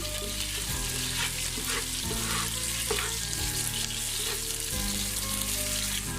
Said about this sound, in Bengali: পেঁয়াজটাকে আমি একদম কড়া করে ভেজে নিচ্ছি, মশলাগুলোকে ভালোভাবে ভাজছি।